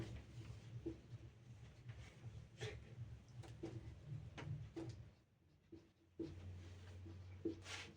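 Writing on a board comes through as a series of short scratchy strokes and taps, faint and close, spaced irregularly over a low background hum, with a brief quiet gap near the end.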